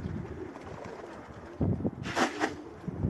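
Pigeons cooing at a pigeon loft, a few soft low coos and a brief brighter call over quiet background, close and fairly faint.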